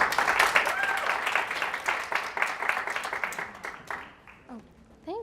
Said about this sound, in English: Everyone, please give a round of applause to Miss Amanda.